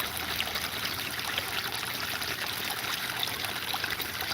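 A waterfall at Hidden Lake Gardens in Michigan pours and splashes in a steady, full rush of flowing water, close and constant with no pauses.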